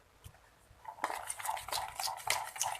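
Chili sauce being stirred in a bowl while cooking spicy crispy smashed fried chicken (ayam geprek), with a spoon scraping and clinking steadily against the bowl, close up, quiet at first then busier and continuous.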